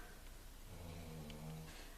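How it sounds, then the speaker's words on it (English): A dog snores nearby in a quiet room, a soft low drawn-out rumbling breath under a faint hiss of background noise. "My dog is snoring."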